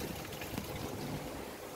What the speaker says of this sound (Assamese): ধাৰাসাৰ বৰষুণ